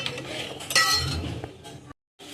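A metal spoon clinks and scrapes against a pan while mixing a coconut and cardamom filling, with several light taps and one brighter clink, then a brief drop to silence.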